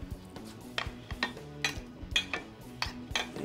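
Chunks of meat dropped into a cooking pot, giving a series of sharp clinks and clatters of metal at an irregular rhythm, close and moderately loud, with no talking.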